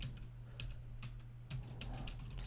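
Keys clatter on a computer keyboard in quick irregular bursts of clicks while an invoice template is built in Microsoft Word, faint and close against a steady low electrical hum, with no talking.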